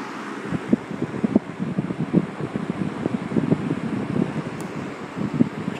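A Windsor C-14 box fan in terracotta runs on medium speed outdoors, giving a steady airy whoosh with low, uneven wind buffeting against the microphone and no speech.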